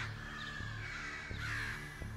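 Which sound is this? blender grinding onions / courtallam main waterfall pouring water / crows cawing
crows cawing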